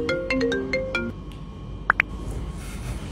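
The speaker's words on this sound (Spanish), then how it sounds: "contestame ese teléfono y ponle un altavoz" A phone rings with a bright melodic ringtone of quick rising notes, followed by two short electronic beeps, close and alone with faint background noise.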